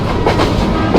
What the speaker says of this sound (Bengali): এখানে কিন্তু প্রচুর স্পিডে টেনেছে